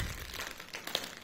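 A small plastic pack crinkles during the unboxing of Vive Trackers 3.0, a short burst of close, soft rustling and crackling handled lightly with no talk.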